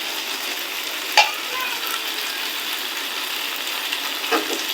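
Lati bhaji, a taro-stolon dish, frying in a pan with a steady close sizzle and a couple of brief scrapes of stirring, no voices.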